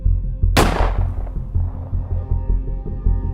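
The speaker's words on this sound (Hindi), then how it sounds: "लेकिन तभी पीछे से एक आदमी बड़ी तेजी से दौड़ता हुआ आता है और गोली चला देता है।" A single loud gunshot from a man who runs up from behind inside a theatre, a sharp close crack with a decaying tail over a low, steady hum.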